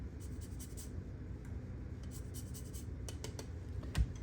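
A lime is zested with a zester, a steady close, faint scratchy rasping that continues throughout, ending with a small tap.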